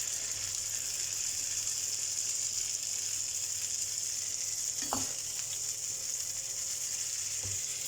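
Masala heating in a frying pan on a kitchen stove gives a steady, even sizzle throughout, with one brief utensil clink midway and a faint scrape near the end, moderately quiet and close, with no speech.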